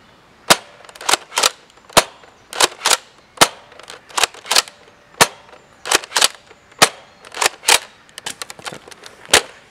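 A Nerf Modulus Battlescout blaster fires foam darts in a quick run of sharp, loud pops, some spaced apart and some in tight bursts, heard alone with no talking.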